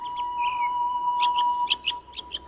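A small bird sings a bright, clear run of short chirps and whistled notes, close and alone, with the phrases quickening toward the end.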